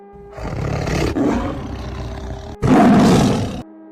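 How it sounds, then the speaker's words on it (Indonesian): A tiger lets out long, loud, rumbling roars, two growling bursts with a brief gap between them, close and forceful. "disertai adanya auman keras seperti harimau yang marah"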